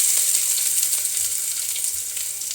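Chopped onion frying in a pan gives a steady, bright hiss and crackle, close and continuous for the whole moment, with no talking over it.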